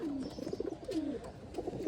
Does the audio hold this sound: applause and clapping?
no